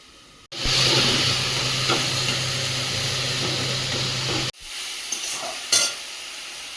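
Pumpkin, potato and mixed vegetables sauté in a pan with a steady close sizzle, a brief break midway, then resumed frying with light stirring knocks.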